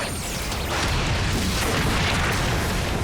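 The Power Rangers Super Mega Cannon fires a blast that lands as a heavy, rumbling boom, which swells after a moment and holds as a dense, roaring explosion to the end.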